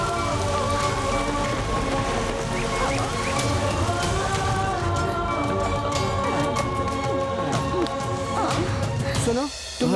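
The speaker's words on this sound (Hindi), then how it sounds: "ये बारिश कैसे हो रही?" Steady heavy rain pours down in a dense, continuous hiss under dramatic film music and voices, with a brief drop in the downpour near the end.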